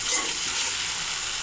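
Spice paste for a fish curry frying and being stirred in a pan, a brief dense sizzle close up with no voices.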